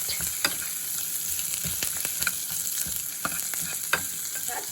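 Onions and chilies frying in oil in a pan for sambar, a steady close sizzle broken by repeated sharp clicks and scrapes of a spoon stirring, with no talking.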